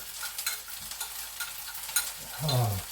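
Oil sizzles and spurts in a pan while Indian egg curry is cooked, a faint, crackling spatter with scattered pops, growing into a brief louder sizzle near the end.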